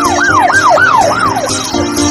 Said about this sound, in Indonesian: Ini kapal speedboat polisi.